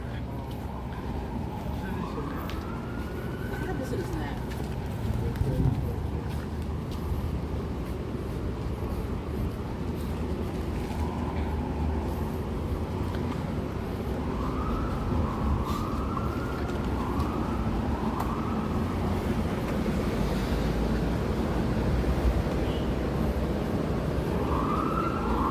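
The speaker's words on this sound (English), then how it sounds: "we can hear more of the sirens" Police sirens wail along Manhattan streets, repeated rising-and-falling sweeps from several distances that grow more frequent toward the end, carried over a steady bed of city traffic hum.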